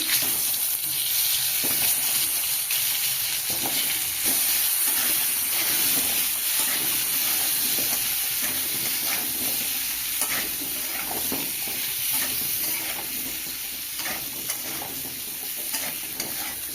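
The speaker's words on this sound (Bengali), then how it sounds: "পটল ভাজার তেলেই আলু ভেজে নেব" Cut potatoes fry in oil with turmeric powder, the same oil used before for pointed gourd, giving a steady, close, loud sizzle and crackle with occasional stirring scrapes and no talking.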